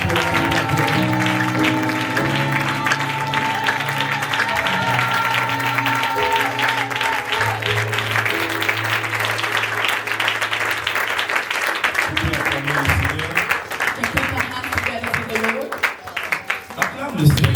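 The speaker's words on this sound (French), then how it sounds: "So can we clap our hands when the man of God is coming to us? Clap your hands." A church audience clapping hands steadily and continuously for a long stretch, mixed with music and voices in a lively worship setting.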